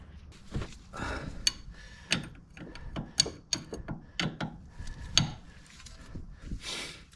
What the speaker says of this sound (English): Then there's gonna be this nut that we need to loosen up or take it off a bit.